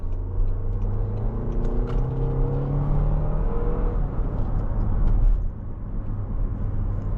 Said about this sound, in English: The engine sounds pretty good too for being a 4-cylinder.